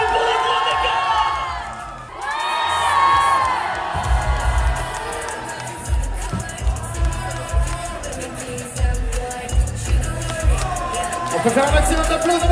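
A festival crowd at a Japanese pop-culture and otaku event cheers and whoops loudly for a cosplay splits feat, with high shouts and sustained excited roaring in a large hall, along with amplified voices and background music.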